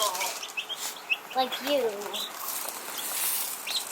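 Backyard chickens cluck and chirp in short bursts, fairly close, while people talk quietly nearby.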